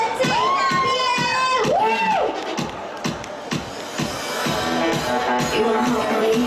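A packed crowd at a stage show during the 2014 Taipei Game Show in World Trade Center Hall 1 screams and cheers nonstop, shrill high cries rising over a dense, loud roar of voices.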